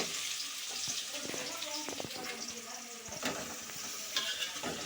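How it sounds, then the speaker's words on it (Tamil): Chopped onions tossed into popping mustard seeds and sautéed in a pan, a quiet sizzle with scattered crackles and utensil clinks, faint and somewhat muddled by background noise. "கடுகு நல்லா தெரிச்ச பிறகு நம்ம கட் பண்ணி வச்சுக்கிற வெங்காயத்தை அதில் சேர்க்கணும்."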